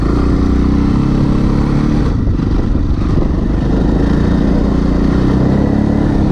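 A heavy Yamaha XT660Z Tenere motorcycle rides through shallow wet sand, its single-cylinder engine droning loud and steady with a constant low rumble and clatter throughout, no speech.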